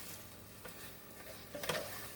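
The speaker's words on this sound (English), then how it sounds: "as you hear it sizzling" Vegetables sizzle in a hot pan over high heat while being stir fried, a soft continuous frying hiss with a few brief scrapes and stirring clatters toward the end.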